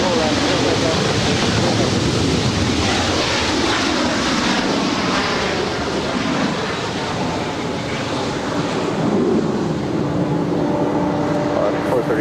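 A jet airliner takes off at Los Angeles LAX airport with a loud, sustained engine roar filling the whole stretch, while radio chatter plays faintly underneath.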